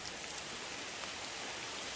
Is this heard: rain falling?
yes